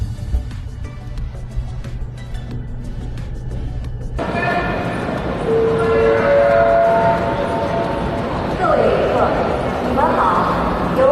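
A Chinese high-speed train rolls past nearby in Shapingba, Chongqing, its rumble swelling after a few seconds with tonal screeches and squeals of the wheels, while people talk in the background.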